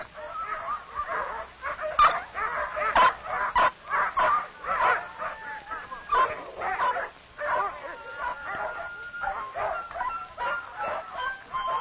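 A team of sled dogs in a remote coastal outport barks and yips in a frenzy, with overlapping barks, whines and high yelps forming a continuous excited chorus.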